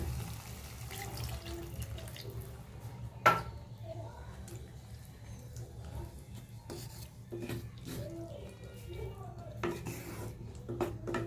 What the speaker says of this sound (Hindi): इसमें पानी ऐड कर देंगे